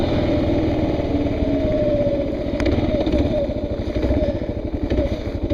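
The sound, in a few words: motorcycle riding on an evening ride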